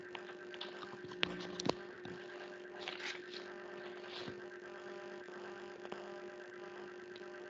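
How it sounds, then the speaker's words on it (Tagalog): Steady electric fan noise caught by a microphone during an online class, a constant mains-like hum with a low whir running through, faint and even, with a couple of small clicks. "wag nating masyadong, itapat sa nasabing electric fan kasi malakas po talaga yung"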